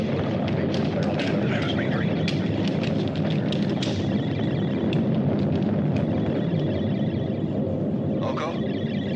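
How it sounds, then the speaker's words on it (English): Sustained low rumbling roar of a stellar explosion as a sci-fi film effect, dense and steady throughout, with faint higher crackles and a brief rising tone near the end, under dialogue. "check the distance of the stellar explosion"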